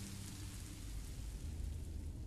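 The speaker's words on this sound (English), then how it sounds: "I didn't know it would rain." Rain in the Minecraft Story Mode video game: a faint, even hiss of falling rain that continues unbroken with no voices.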